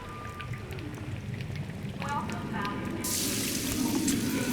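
Rain falling on a campfire in the survival video game Sons of the Forest, a steady patter and hiss that thickens into a heavier wash partway through, with faint clicks underneath.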